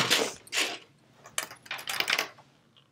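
A sewing machine stitches the last seams of a quilt back in short bursts, with three or four quick mechanical runs separated by brief pauses, fairly quiet and close, with no talking.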